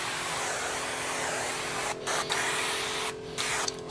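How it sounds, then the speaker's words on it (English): A loud, continuous hiss of liquid sprayed close by behind a car door handle during window tint installation, broken by a few brief pauses near the end. "Spray down behind the door handle."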